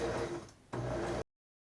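A sewing machine stitching fabric runs in two short buzzing bursts with a brief pause between, then stops abruptly into silence.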